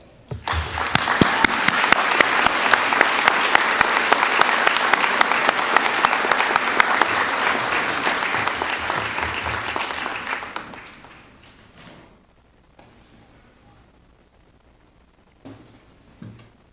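Graduation ceremony audience at MEDEX Tacoma breaks into loud, sustained applause for about ten seconds to welcome a speaker to the stage, then fades to a few scattered claps and quiet room noise.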